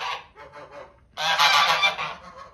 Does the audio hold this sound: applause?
no